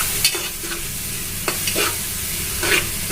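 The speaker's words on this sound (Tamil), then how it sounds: "நல்லா எண்ணெயில் கிளறி விட்டுட்டு ஃப்ரை ஆகிறதுக்கு வெயிட் பண்ணுவோம்" Ginger and garlic fry in hot oil for mutton dum biryani while a spoon stirs them, steady close sizzling punctuated by several sharp scraping clicks of the utensil against the pan, with no talking.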